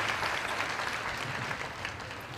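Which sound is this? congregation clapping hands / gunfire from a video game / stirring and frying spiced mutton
congregation clapping hands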